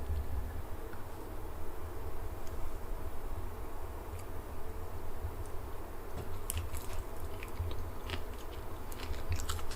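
Cooked meat being chewed close to the microphone, a steady run of soft wet bites and crunches over quiet background hiss, with no talking.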